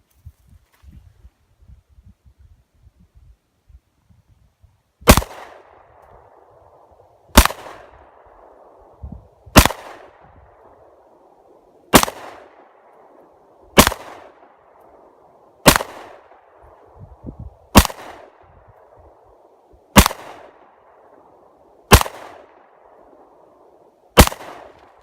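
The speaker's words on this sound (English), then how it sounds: "We'll take some shots and see how I do. We'll start off with it in double action again." CZ P-01 Omega pistol fired in double action outdoors, ten sharp loud shots spaced a couple of seconds apart, each followed by a short ringing decay, after a quiet lead-in.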